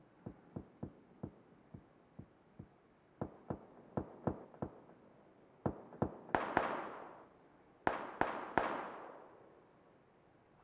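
Gunfire in the PUBG battle royale game, a long run of sharp single shots, distant at first and spaced unevenly, then several louder, closer cracks with short echoing tails, with no talk over them.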